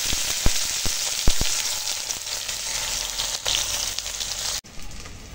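Diced onion and green chili fry in oil in a wok, giving a loud, close, crackling sizzle with several sharp spatters early on. The sound ends abruptly near the close.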